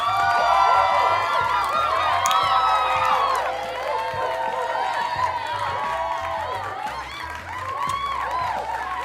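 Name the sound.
round of applause and cheering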